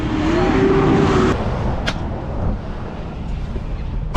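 Truck driving downhill on California's Grapevine while pulling around another truck, a loud steady engine and road roar with rushing wind noise, briefly shifting tone as the vehicles pass, no talk.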